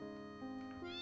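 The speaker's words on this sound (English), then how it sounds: "This little kitty cat." A short, bright cat meow from Final Fantasy VIII rises at the end of a brief clip, layered over held background music notes, alone and quiet.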